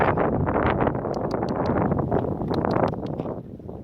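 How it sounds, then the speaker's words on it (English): Strong wind buffets the microphone in a loud, continuous low rumble, with a few faint rustling ticks scattered over it. "it's getting windy now"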